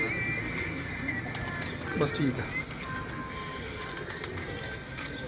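Pigeons coo in a loft in Multan, a soft rolling call near the middle with faint bird chatter around it, heard under a voice speaking briefly.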